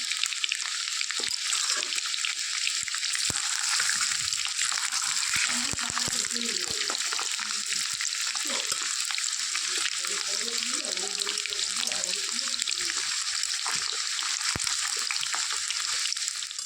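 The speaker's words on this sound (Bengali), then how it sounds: "আলু দিচ্ছি, বেশি ভাজবো না, আমি একটু করে ভেজে নেবো" Potatoes frying with meat in a pan over a wood or clay stove, a steady broadband sizzle running throughout with occasional soft clinks of stirring and faint background voices.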